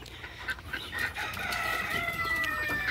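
Golden Misri chickens on a hen farm cluck repeatedly and a rooster crows, with close, loud calls building over a few seconds.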